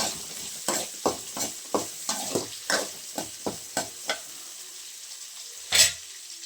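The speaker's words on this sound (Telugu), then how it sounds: "సన్నగా తరిగి పెట్టుకున్న ఎర్రగడ్డలు కూడా వేసేద్దాం. వేసి ఇవి ఒక 2 మినిట్స్ బాగా వేగనిచ్చేద్దాం" Sliced red onions dropped into a hot pan and stirred, a dozen crisp sizzling scrapes in an uneven rhythm, close and clear, ending with one louder burst, no talk.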